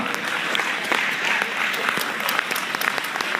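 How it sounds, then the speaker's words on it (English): Audience at a Pontiac mayoral candidates forum applauding the candidates, a sustained burst of dense, close clapping from a crowd. "Let's give them another hand for the outstanding job they've done."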